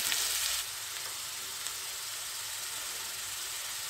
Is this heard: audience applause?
no